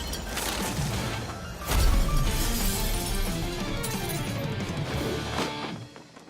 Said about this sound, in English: against the roar of wind and dust and soda cans smashing about